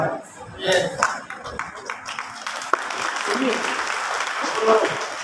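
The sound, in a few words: audience applause and clapping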